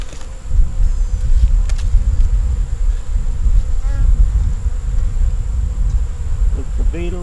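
Honey bees buzz densely and close around an open hive holding brood, eggs, a queen and stores. The steady droning swarm continues throughout, with a few light handling clicks and taps.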